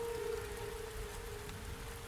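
Steady rain pattering in a broad, even hiss across a farm at night, constant and fairly close, with a faint low hum running underneath and no voices.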